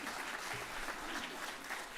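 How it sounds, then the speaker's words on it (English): Brief burst of plenary audience applause at the annual Moose Hide Campaign Day gathering, dense steady clapping from a large crowd, loud and continuous throughout. "let's give them a round of applause for that"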